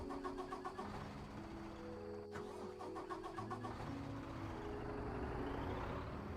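A truck engine, hauling a trailer, is restarted after stalling, running with a steady mid-pitched rumble that churns continuously and stays fairly faint throughout.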